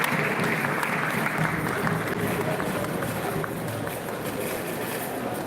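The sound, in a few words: audience applause for speaker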